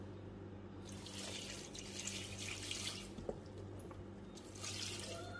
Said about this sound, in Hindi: अब हम डाल देंगे इसमें पानी